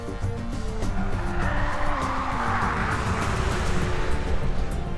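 A fast car at speed on the Nürburgring, its engine note climbing and dropping through steady gear changes, loud and close throughout with a constant rushing roar.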